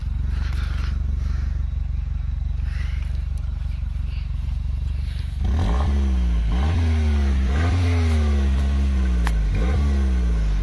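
A Peugeot 208 GTI engine idles steadily and then breaks into several repeated revs that climb and fall in quick succession, loud and close, with a faint voice in the background.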